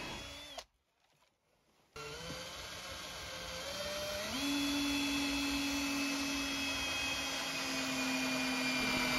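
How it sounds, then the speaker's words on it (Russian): Power screwdriver driving self-tapping screws into a wooden bar for a sauna bench frame; a sustained close whine that cuts out briefly, then resumes and climbs to a higher steady pitch as the screw runs in. "Закрепляем его на саморезы."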